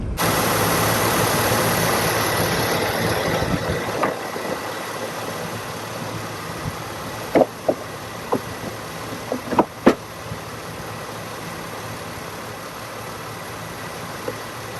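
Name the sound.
Pontiac G6 engine idling while warming up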